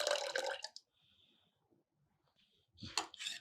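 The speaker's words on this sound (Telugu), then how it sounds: "ఏసి దీంట్లో కావాలంటే కొంచెం వాటర్ యాడ్ చేసుకోండి" Water is poured into a bowl of ragi java, a finger millet drink, in short splashing bursts at the start and end, with a quiet gap between them.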